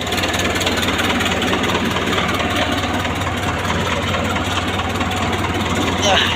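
A Ford tractor engine idles steadily and close by, a constant low rumbling throb with no change in pace throughout.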